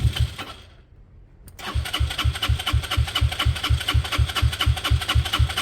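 A Peugeot car engine cranks, pauses briefly, then catches and settles into a loud, close, evenly pulsing idle.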